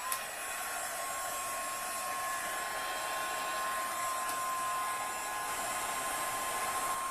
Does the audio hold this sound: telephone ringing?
no